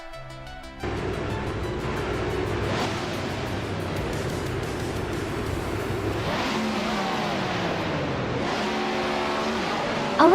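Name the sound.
race cars starting a race at Grand Valley Speedway, video game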